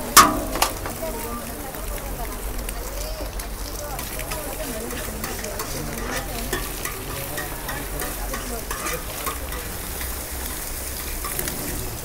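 Egg chili masala fries and gets stirred in a pan at a Mysore egg stall, a steady close sizzle with scraping stirs throughout and a sharp clang near the start.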